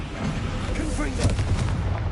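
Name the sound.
Confringo fire-blast spell explosion in video game Hogwarts Legacy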